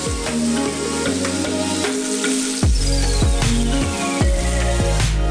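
Shawarma meat sizzles loudly on a heated grill, a steady close-up frying hiss with repeated scraping and turning sounds layered over a constant background tone.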